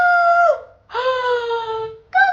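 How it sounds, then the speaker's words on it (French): A rooster crows three times in close succession, loud and near. Each call is harmonic and drawn out, with short gaps between them. "Cocorico! Waouh! Un coq!"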